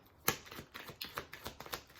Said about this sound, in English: let's do a few more shuffles, and they always kind of fly out on me